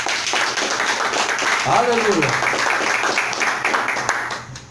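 Church congregation clapping hands in praise, a continuous dense patter of many hands close and fairly loud, with a person calling out over it partway through.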